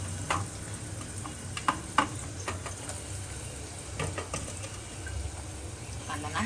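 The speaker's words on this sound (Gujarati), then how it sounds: "આપણે કાંદાનો વઘાર કરી નાખ્યો છે. આ રીતના બધા કાંદા નાખી દઈએ." Chopped onions frying in hot oil with asafoetida for a Gujarati tempering, a soft continuous sizzle with scattered ticks and stirring clicks from the pan.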